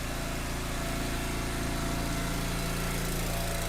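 A Stihl MS880 chainsaw engine runs steadily and loudly, close by, with a continuous buzzing drone and no pause throughout.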